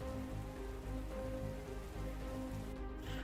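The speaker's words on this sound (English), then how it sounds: "you hear the rain grow louder" Steady rain in the video game Path to Nowhere, a dense, even hiss of drops on a surface, loud and continuous with no talking, holding level throughout.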